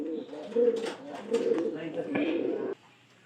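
Pigeons in a loft coo up close, giving a few soft, throaty, rolling calls in a row before falling quiet.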